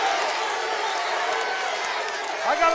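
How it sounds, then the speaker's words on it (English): A wrestling arena crowd cheering and roaring for Hacksaw Duggan wielding a 2x4, a steady wash of crowd noise with a commentator talking over it. "Listen to this crowd."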